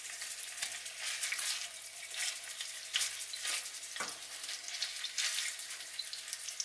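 Minced meat sizzles and crackles in a hot pan for a potato and bean stew, a steady close frying hiss punctuated by occasional scrapes and stirs.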